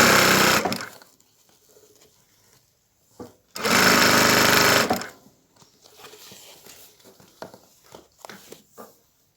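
An electric sewing machine stitches a fabric seam for a fridge handle cover in two loud whirring runs of about a second each, separated by quiet handling, followed by soft clicks and fabric rustling.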